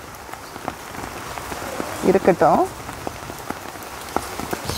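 Rain falls steadily on a home garden full of potted plants, a soft continuous patter of drops on leaves and surfaces. A voice speaks briefly midway through.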